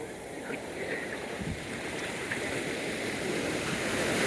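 Rough, cold ocean surf rolls onto a rocky beach, a steady broadband wash of breaking waves with a heavier surge near the middle, close and continuous without talk.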